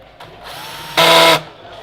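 A power drill drives a screw into a sound bar grille, giving one short, loud burst of whirring with a bright edge. It is surrounded by quieter background noise.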